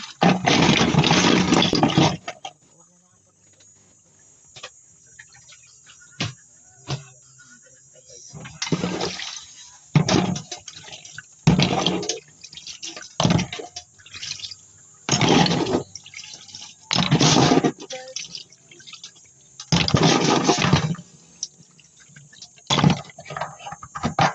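Tap water gushes in repeated bursts of a few seconds each, with quieter dripping and trickling between them, close and fairly loud, as if the faucet is being run on and off for rinsing.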